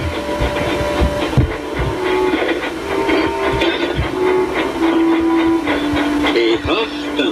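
A toy steam engine, Edward, labours uphill hauling a heavy freight train: steady rhythmic chuffing and rail clatter with several drawn-out whistle tones, continuous and fairly loud.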